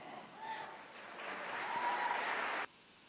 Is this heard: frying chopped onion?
no